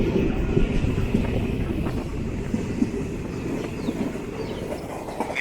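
A passenger train, the 06889 from Trichy, runs on the rails near Neyveli between Tiruppadirippuliyur and Vriddhachalam. A steady, close rumble carries faint wheel clicks and no voices.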